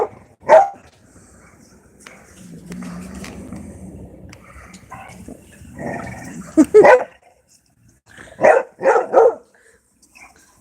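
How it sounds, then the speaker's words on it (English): American bully dogs playing together, giving several loud, close barks and growls in short bursts with quieter grumbling and movement between them. "none of these dogs are fighting. It's more sound than anything."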